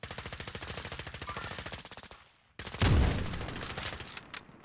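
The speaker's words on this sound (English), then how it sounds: "They're shooting with the silencer." Silenced gun in Call of Duty Warzone firing a long rapid automatic burst of evenly spaced muffled shots, a brief pause, then a louder burst with heavy low thump and a few trailing shots.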